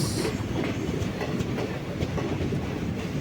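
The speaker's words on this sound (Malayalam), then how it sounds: "ഇത് നമ്മുടെ കാരൈക്കൽ എക്സ്പ്രസ്സാണ് കാരൈക്കൽ എക്സ്പ്രസ്" Karaikal Express passenger train running from Karaikal toward Ernakulam, with a steady loud rumble and rhythmic clickety-clack of wheels on rails close by, continuous throughout and no talk.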